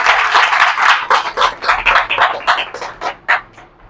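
Audience applause at a network marketing business seminar and product show, a steady wash of many hands clapping that swells in rhythmic bursts, loud and close, with no talk over it.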